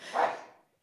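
A single short, breathy burst, a quick sneeze that rises sharply and fades within a second, close and fairly quiet.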